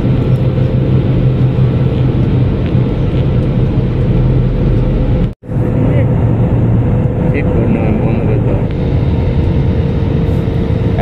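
Inside an IndiGo passenger jet cabin on landing approach to Jammu, a loud, steady engine hum and rumble persists throughout, broken once by a brief cutout near the middle.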